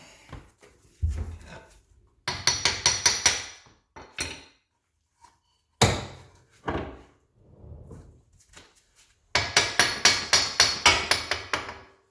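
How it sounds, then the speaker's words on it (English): A hammer taps an axle out of a Honda D16A6 L3 transmission during an axle seal replacement, delivering quick rhythmic bursts of metallic blows separated by pauses and a few single knocks, close and loud, with no speech. "Get a hammer and you kind of tap the axle"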